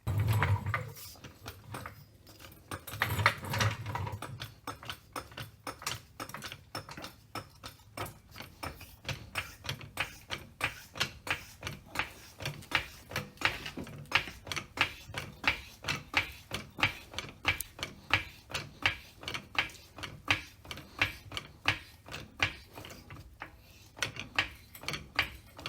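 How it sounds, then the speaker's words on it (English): A floor jack raises the front of a Jeep XJ Cherokee with a long, steady run of evenly spaced ratcheting clicks from pumping the handle, close by and continuing for over twenty seconds without talk. "let's go ahead and just jack it up and put the jack stands under the axle"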